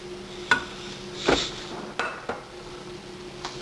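A spoon stirs garlic, flour, thyme and paprika into a roux in a gumbo pot, giving a few sharp metallic clinks and scrapes against the pot at irregular intervals over a quiet background.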